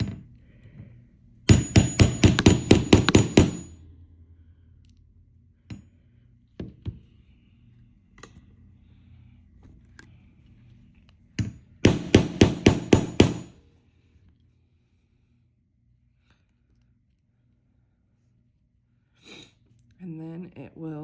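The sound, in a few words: hammering a snap fastener onto fabric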